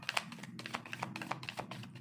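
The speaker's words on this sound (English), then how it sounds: "let me shuffle" Tarot cards being shuffled in the hands during a reading, giving a run of quick, close, papery riffles and taps that stay steady for about two seconds with no talk over them.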